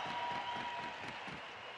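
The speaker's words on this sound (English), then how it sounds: "Listen to that crowd." Crowd in a hockey arena at a home opener gives off a faint, distant, steady roar of cheering and applause that gently tapers over a couple of seconds.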